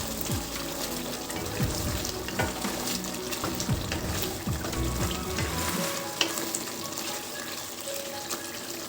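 Green chicken curry with turmeric, cumin and pepper powder being stirred in a pan, a steady close sizzle with repeated scraping strokes of the spoon running throughout, no talk.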